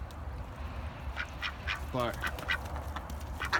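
Ducks quack a few times in a muddy backyard shared with chickens, the calls fairly close over a steady low outdoor hum, with a brief bit of speech nearby.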